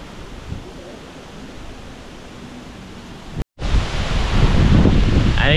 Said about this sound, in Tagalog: Antayin po natin lumakas yung hangin.